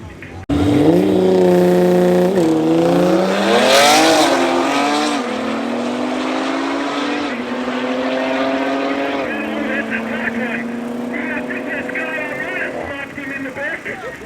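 BMW X3M and Nissan GTR drag racing side by side at Midvaal Raceway, engines roaring loud and near as they launch, revs climbing through gear changes, then a long sustained drone fading slightly.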